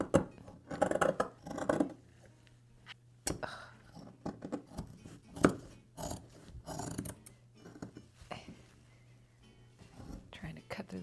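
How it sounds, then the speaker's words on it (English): Scissors cut through the zipper of a beaded 1990s mother-of-the-bride dress, making faint intermittent snips and metallic clicks under soft whispered talk. "Trying to cut through that zipper now."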